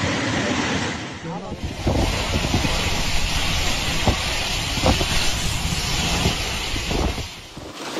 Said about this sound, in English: Powerful floodwater tore through this dirt road, washing the ground away and leaving the road collapsing right before everyone's eyes.